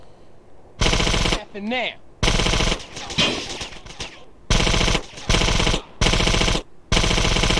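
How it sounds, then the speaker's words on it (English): Rapid dual submachine gun fire from two Mac 11s in GTA San Andreas, loud sustained bursts repeating with short gaps, a voice speaking briefly between them. "Dual wield and two Mac 11s is crazy."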